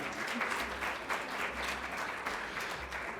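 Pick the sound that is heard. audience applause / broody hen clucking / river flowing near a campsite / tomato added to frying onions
audience applause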